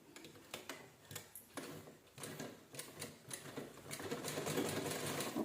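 A sewing machine stitches a folded fabric strip for a rag door mat. It gives quiet, rapid mechanical ticking in short bursts, then a steadier run of stitching toward the end.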